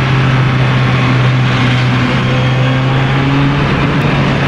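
A Kawasaki Z900 RS Cafe motorcycle's engine runs steadily during a test ride, a loud continuous droning hum with rushing wind noise, with no notable revving changes over the span.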